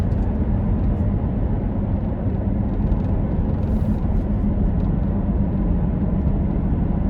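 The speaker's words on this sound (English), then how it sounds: "Then we're gonna shift with the paddles. Listen to those downshifts." Chevrolet C7 Corvette Grand Sport engine in sport mode, a steady loud low rumble with throttle blips during paddle-shift downshifts, close and continuous throughout.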